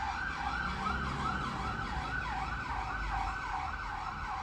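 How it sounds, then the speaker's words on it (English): An ambulance siren wails in a repeating rising-and-falling pattern, moderately distant over low road rumble, steady throughout with no talking. "That's an ambulance."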